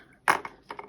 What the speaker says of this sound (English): snip off a little overhang on the end there